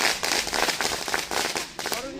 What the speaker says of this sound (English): Are you guys enjoying the fireworks show up there?